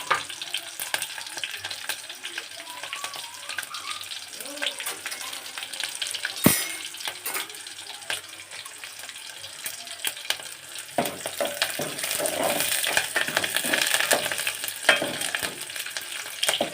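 Cumin seeds crackle and sizzle steadily in hot oil, a continuous close frying hiss with a sharp clatter partway through and occasional stirring scrapes, no voices.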